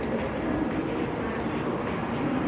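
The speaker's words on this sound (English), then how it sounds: "I think I hear a train up there" A steady, broad low rumble of a train passing at a distance in Japan holds constant for the whole stretch, with no talking.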